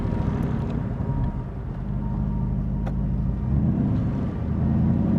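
A 1965 Shelby Cobra Backdraft driving, its engine giving a steady low rumble that swells and eases slightly, heard from close by with no talk.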